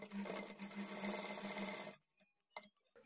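A sewing machine stitching a blouse's lining to its main fabric runs in a steady close whir for about two seconds, then stops, leaving a few small clicks and handling sounds.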